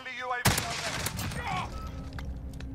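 The VLK Rogue shotgun fires in a video game with a sharp, loud blast followed by a rumbling spread of shots, explosions and battle noise.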